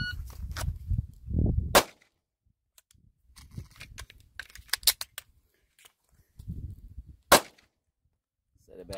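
Pistol shots from a Taurus GX4 or Ruger Max 9 ring out during a dot torture shooting drill: two sharp, loud reports several seconds apart, with lighter clicks, handling clatter and voices between them.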